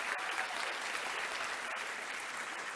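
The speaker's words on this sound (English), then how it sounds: "let's give her a round of applause." An audience at a college convocation applauds, a dense, even patter of many hands clapping at moderate volume that holds steady throughout without voices.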